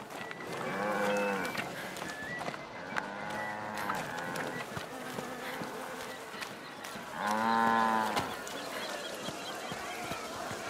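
Cattle moo at a cattle fair in A Plague Tale: Requiem, with two long, loud lowing calls, one near the start and a bigger one later, over a busy crowd bed where voices murmur.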